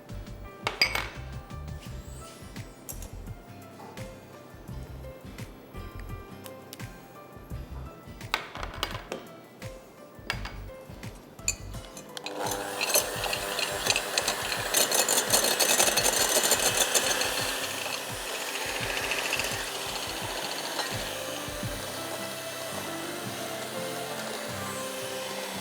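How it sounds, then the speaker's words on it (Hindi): Eggs and sugar whisked together in a bowl for a chocolate cake, with a steady rapid clinking and scraping of utensil against the bowl that grows louder and denser partway through, no talking. "चीनी और अंडा अच्छी तरह मिक्स कीजिए"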